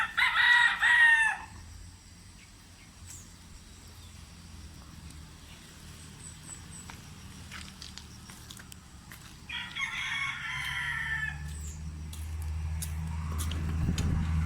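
A rooster crows loudly nearby at a chicken coop, then another crow follows after a pause, with faint clucking and low background rumble between.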